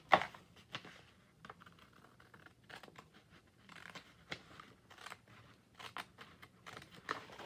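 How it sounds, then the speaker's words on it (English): Scissors snipping at close range in a quiet room, a series of sharp, irregular cuts and rustles separated by short pauses. "Kind of hard to get my scissors in there."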